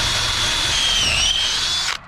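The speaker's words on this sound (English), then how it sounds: "drill a hole through so we can put a string through" A power drill bores a hole through a wooden fence gate, a steady high-pitched whine with a slight drop in pitch under load, running for about two seconds before it cuts off abruptly.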